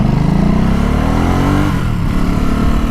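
A 2018 Ducati SuperSport motorcycle engine revs up close and loud, its throaty note climbing in pitch, then easing off with a rough, popping burble.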